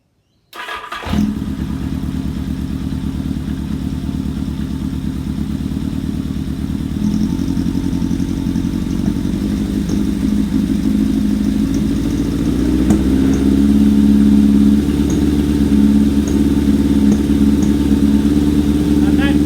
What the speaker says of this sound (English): So we'll start it, get the fan going, start it, wind the revs up